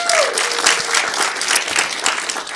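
Brief, lively clapping from the crowd at a county recovery court graduation ceremony, dense and fairly loud with a few sharper individual claps, while a voice briefly sounds over the start.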